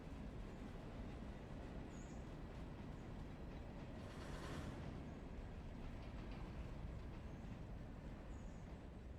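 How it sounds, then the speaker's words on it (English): A passenger train rumbles steadily along in the railroad game Railroader, a constant low rolling drone with faint rail noise and a brief swell in the middle, no voices. "I probably have to stop the passenger train."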